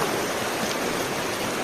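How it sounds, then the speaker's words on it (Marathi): Stream water flows down from above with a steady, close, rushing wash, continuous and unbroken with no voices. "इकडून वरून पाणी फ्लो होतो आणि असंच इथं आलेलो आहे"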